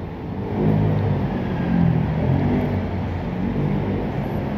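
A Jetour car pulls out of a parking area, its engine giving a steady low rumble that swells as it accelerates, then holds at an even, moderate level with no voices.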